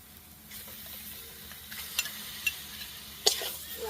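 Soybean chunks stirred into potatoes frying in a pan, giving soft scraping stir sounds with a light sizzle and a few sharp clinks of a spoon against the pan, fairly quiet and close.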